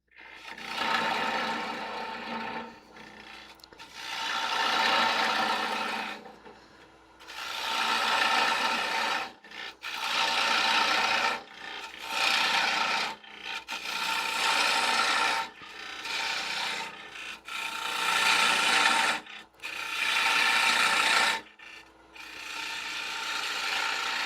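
Wood gouge cutting wood on a lathe, repeated raspy scraping passes in bursts of a second or two separated by short pauses, close and moderately loud with no talking.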